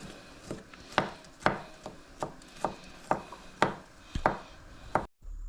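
Collard greens are chopped on a board in a steady series of crisp knife strokes, about two per second, close and clear, ending abruptly.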